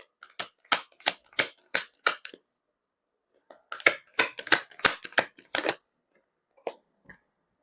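Cards drawn one by one from a deck for a card reading, crisp snapping flicks in two quick runs of about six to eight, then a couple of isolated flicks, close and clear with no talking.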